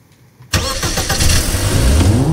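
A Ferrari's engine starts abruptly in the Garry's Mod video game, firing up after near silence and settling into a loud, steady running rumble.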